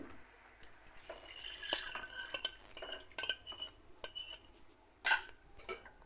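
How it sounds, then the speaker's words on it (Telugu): A grape jelly mixture thickened with cornflour being stirred in a pot: quiet scraping with scattered light clinks and taps of a spoon against metal, close by, uneven in rhythm, with no speech. "మొత్తం దీన్ని ఇలా బాగా మిక్సింగ్ చేసుకొని వేసుకోవాలి"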